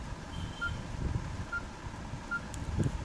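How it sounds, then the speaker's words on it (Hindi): Three short, faint keypad beep tones from a Samsung B315E mobile phone ring out at even intervals over a low background hum, each a clean, brief electronic pip. "तो अभी आपने सुना कि मैं बैक आया तो कीबोर्ड का साउंड हो रहा था।"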